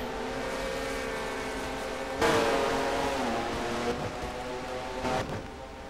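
Racing video game cars at a green flag restart on a Pikes Peak oval in a Mello Yello series race, engines droning steadily then surging louder as the pack accelerates, with fluctuating revving tones throughout.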